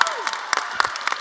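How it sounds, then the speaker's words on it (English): Brief applause from an audience at a school band competition, a scattered patter of claps cheering the instrumentalists, with a voice over it. "Can we just have a quick round of applause for the instrumentalists here?"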